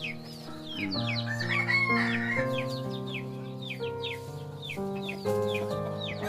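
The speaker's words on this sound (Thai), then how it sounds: "เสียงขันครับเสียงขันนี่ก็คือจะแตกต่างครับ" A green junglefowl hybrid rooster crows repeatedly, long harmonic calls rising and falling close by, with softer clucks and other farmyard birds chirping around it; no one speaks.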